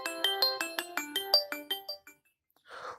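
A Xiaomi Redmi Note 4 plays a ringtone through its built-in speaker, a bright, evenly paced run of about a dozen melodic notes lasting two seconds, followed by a short pause and a brief soft rustle.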